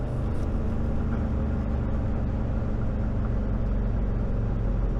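A 1967 Chevrolet Corvette C2 on the road, its engine a steady low rumble with road noise droning continuously without pause.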